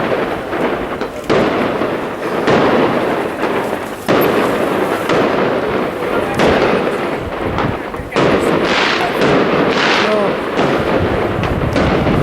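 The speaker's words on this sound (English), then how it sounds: "Not sure why the fireworks are going off." Fireworks bang and crackle repeatedly outdoors in Santorini, Greece, loud bursts following one another with sharp pops over a steady rumble, with some voices mixed in.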